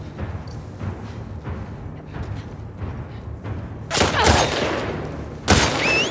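A burst of gunfire in the video game The Last of Us Part 2, with scattered shots early on and then two loud, sharp gunshots close by near the end.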